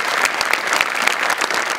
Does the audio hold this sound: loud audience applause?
yes